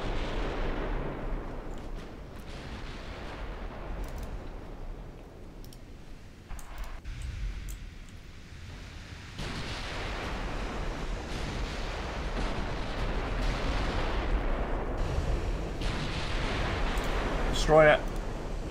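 Artillery shells fire in a naval combat video game featuring Japanese dreadnoughts, with scattered distant booms and bursts over a rumbling background, a sharper clicking blast near the end.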